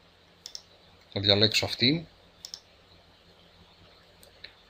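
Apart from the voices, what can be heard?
computer mouse clicks selecting photos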